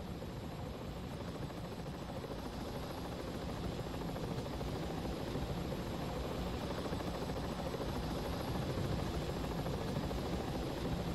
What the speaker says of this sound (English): Captain, look out! Enemy helicopter!